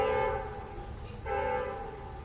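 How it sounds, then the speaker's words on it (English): A train horn sounds as a train passes through town, a loud sustained blare that dips briefly in the middle and then returns, heard alone without talk. "Fucking bitch ass train wants to go through town now."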